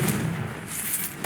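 A Confringo blasting spell in Hogwarts Legacy goes off as a heavy, booming fiery burst that rolls on for about a second, loud and close with no talk over it.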